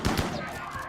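A couple of quick gunshots from a player firing in a video game, sharp and close, followed by a short tail of lingering noise.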